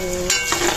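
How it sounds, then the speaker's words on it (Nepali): Garlic and ginger frying and being stirred in hot oil for a chicken pickle, a steady close sizzle with a brief stir in the middle. "लसुन पनि फेरि यही गरेर फ्राई गर्ने हो"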